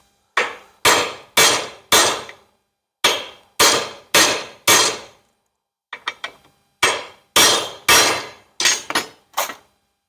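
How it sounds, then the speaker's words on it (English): A hammer pounds a universal joint cap down so the C-clip can fit, about eighteen sharp, ringing metal blows in bursts of three or four, with a few lighter taps midway and no talking. "We're going to knock this one down to that one so we can put the C-clip on."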